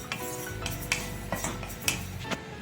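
Sesame seeds stir-roasted in a hot kadhai with the gas off, a metal spoon scraping and clinking against the pan in repeated strokes, with a faint sizzle beneath.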